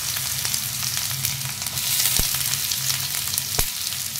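Onions fry in hot oil with urad dal and curry leaves, a steady, loud sizzle and crackle broken by an occasional sharp pop.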